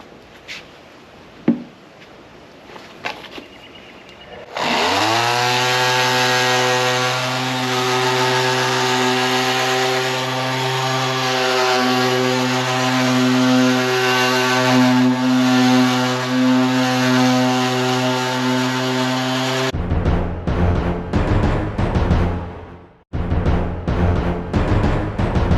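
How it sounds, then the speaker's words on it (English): A polishing machine with a medium pad spreads ceramic polish on a Goldwing cafe racer. It spins up to a steady, loud whine that holds for about fifteen seconds, then cuts off into brief clattering handling noises. "taking a polishing pad. It's like medium pad. I'm putting some new finish on it. It's a ceramic polish."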